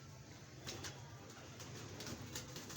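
Pigeons kept at a pigeon club coo in a low, steady murmur throughout, with a few brief higher chirps standing out over a continuous background hum.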